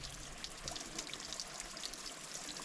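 Small mountain drainage stream trickling outdoors, a soft, continuous babble of water with light splashing, faint and steady throughout.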